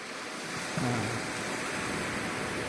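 Waves break at Pantai Paru beach beside a fishing village, a steady loud wash of surf and wind noise with no pause, and a brief low tone rising out of the roar near the start.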